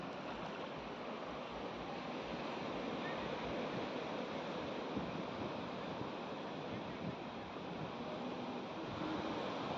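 Sea waves wash steadily onto Vagator Beach in North Goa, a constant broad roar of surf mixed with wind buffeting the microphone, with no talking heard.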